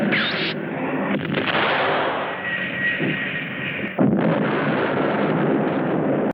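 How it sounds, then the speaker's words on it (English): A nuclear bomb blast from the Japanese monster film Gamera, a loud sustained roaring rumble that swells, dips briefly, then surges again with a fresh burst and rolls on without pause. "Only a nuclear bomb could cause a blast like that."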